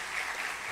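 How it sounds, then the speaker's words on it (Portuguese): Church audience applauding during a Portuguese-language sermon: a brief burst of dense, even clapping from a crowd, moderately loud, with no voices over it. "Vamos dar um aplauso pro meu amigo aqui."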